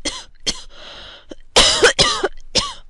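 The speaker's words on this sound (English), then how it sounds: "you are coughing already" A man coughing indoors in a dramatized scene, a series of sharp harsh coughs with short pauses and a throat-clearing rasp, loud and close, with no talk.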